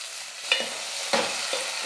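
Onion and tomato sauté in a pan, with a gentle steady sizzle punctuated by three sharp spoon-scraping strokes close by.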